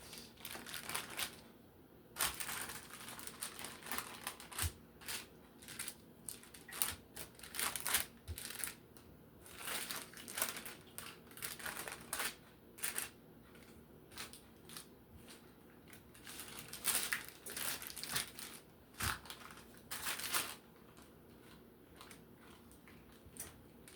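Close, soft crinkling and crunching of paper repeats in irregular bursts as a hand presses homemade Grape Nuts cereal dough flat beneath it, quiet and steady over a long stretch.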